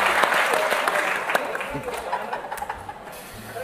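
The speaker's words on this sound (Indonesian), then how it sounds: "Silakan tepuk tangan buat Kiki" A talk show audience applauds steadily and fairly loudly for about four seconds, a dense wash of clapping with a few voices mixed in.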